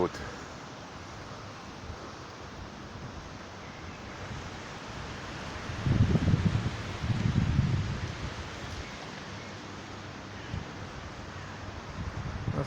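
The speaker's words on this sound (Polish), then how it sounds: "mamy wiatr dzisiaj jakiś taki zwariowany dosłownie" Strong wind buffets the microphone with a constant roar, swelling into two heavier gusts midway before settling back to a steady rush.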